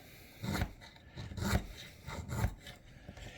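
A Faulkner 5 knife makes slicing cuts during a cut test, heard as three soft, close scraping strokes spaced about a second apart, faint against a quiet background.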